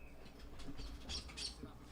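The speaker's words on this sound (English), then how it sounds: "the birds having a bloody play around in the trees." Faint, scattered squawks and chirps from birds in the trees, coming in short bursts over a quiet background.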